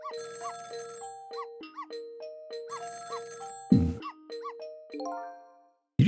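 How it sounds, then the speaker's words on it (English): Telephone ringing in the apartment next door in the video game Ghost Trick: a bright electronic ring of repeated chiming tones in a steady pattern, broken by two short thumping bursts, with no talk. "It was the sound of a telephone ringing coming from the apartment next door."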